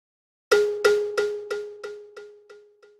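A single struck tone followed by a delay effect with feedback, producing seven evenly spaced echoes about a third of a second apart that fade steadily in loudness, heard alone with no talk.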